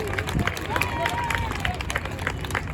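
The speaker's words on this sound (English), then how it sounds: "give the crew of the Thunder Pig and our AT-11 Kansan a big round of applause" Airshow crowd applauding outdoors for the crew of the Thunder Pig and an AT-11 Kansan, steady clapping and crowd noise under a faint announcer voice, with wind and a low rumble throughout.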